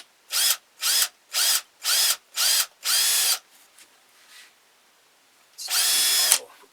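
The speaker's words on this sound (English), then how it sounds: "The next step is we want to drill a hole so we can mount that." A power drill bores into wood while building a wooden ventriloquist dummy figure: six short, loud bursts in a steady rhythm, then a pause with faint handling noise, then one longer burst, all close and with no talking.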